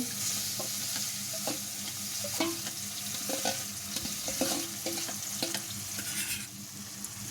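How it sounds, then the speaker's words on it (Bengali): Marinated chicken sizzles in a hot wok with steady frying hiss, broken by repeated scraping and clanking stirs of a spatula against the metal, close and fairly loud, with no talking. "এরপর এই ম্যারিনেট করা মাংসটা দিয়ে দিতে হবে কড়াই।"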